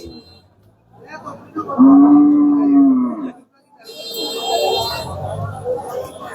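At a large traditional cattle market, one long, low moo sounds close by, then gives way to a murmur of crowd noise and distant voices.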